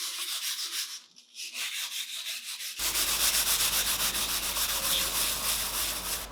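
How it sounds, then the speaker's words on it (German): Japanese yam being grated on a grater, producing a continuous rhythmic rasping scrape that runs close and steady, growing denser and louder partway through, with no speech. "Und die japanische Jamswurzel wird richtig schön schleimig, wenn man sie reibt."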